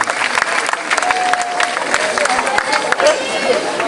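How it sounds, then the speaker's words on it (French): Audience applause for the sponsors at an outdoor Miss Languedoc pageant at Port de Carnon, a dense crowd clapping steadily throughout with cheering and chatter mixed in. "on peut applaudir tous ces partenaires"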